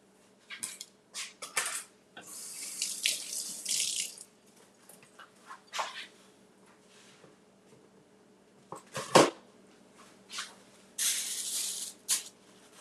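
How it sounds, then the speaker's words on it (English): Fresh parsley sprigs rinsed under a running kitchen tap, with bursts of splashing water starting and stopping several times, fairly close and moderately loud, plus a few faint clicks and handling noises between the bursts. "So we got fresh parsley. So I'm just going to grab a couple. All right. Let me rinse this."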